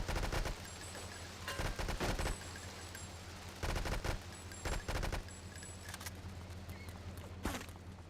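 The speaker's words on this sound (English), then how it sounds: "These guys I can just AK them down." Rapid AK rifle fire in a snowy GTA Frosted Winter shooter: several loud bursts of automatic gunfire separated by short pauses, crackling against a steady ambient background, with no talking.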